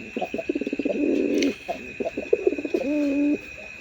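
Indian Mumbai pigeon giving deep, throaty coos in rapid pulsing bursts and drawn-out rolling calls, close and clear over a faint steady background hum.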